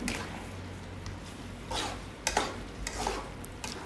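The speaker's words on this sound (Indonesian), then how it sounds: "Jangan lupa untuk terus diaduk." A spoon stirring rendang with toasted coconut spice paste in a pan: soft scraping and stirring strokes over a low, steady sizzle, with a few sharper clinks of utensil on pan, close and fairly quiet, with no talking.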